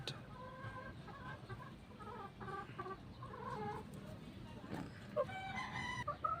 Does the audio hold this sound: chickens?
yes